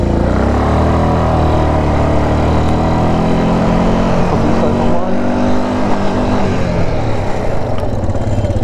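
Vehicle drifting on sand in the Dubai desert, a loud continuous engine roar with rising and falling harmonic sweeps as revs shift, steady and close throughout.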